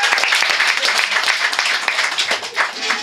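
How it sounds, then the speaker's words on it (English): Comedy club audience in Dublin clapping, a dense, steady wash of many hands filling the room for three seconds with no pauses. "Clap for me, because I can't see out"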